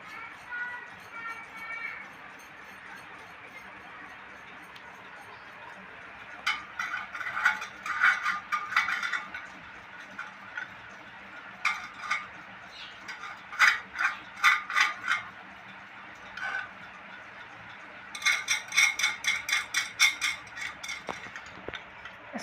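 A bolt is tightened on an interlock sewing machine, giving bursts of close ratcheting clicks and rattling metal in uneven clusters, with a voice talking now and then between them.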